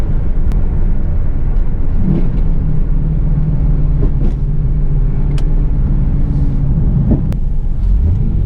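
A 2000 Chevrolet Camaro SS with SLP mods drives along with a steady, loud engine rumble throughout, a few shifts in pitch as it accelerates and settles, and no talking.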